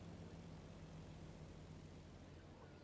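A propeller plane from ArmA 3 passes overhead in a World War II setting, a faint low droning engine hum that holds steady throughout with no voices.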